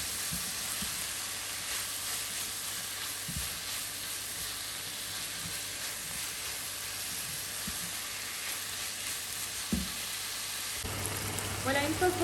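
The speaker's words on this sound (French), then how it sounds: "je viens rajouter les lardons et je vais les laisser dégorger de leur eau" Bacon lardons sizzle and spit quietly in a pan while releasing their water, with a soft continuous frying hiss, occasional stirring knocks and a livelier burst of crackling toward the end.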